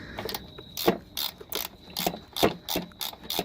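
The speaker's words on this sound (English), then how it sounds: "Electric ratchet." Electric ratchet driving a fastener on a Honda Civic upper control arm, giving rapid repeated clicking bursts in an uneven rhythm, close by and moderately loud with no talking.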